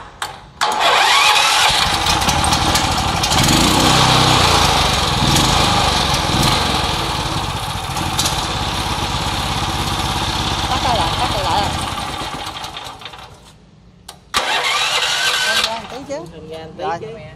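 A Yokomotoz 18 hp gasoline engine with electric start cranks and fires, then runs at a loud, steady, rough mid-pitched chug. It cuts out briefly near the end and restarts, while people talk over the running engine.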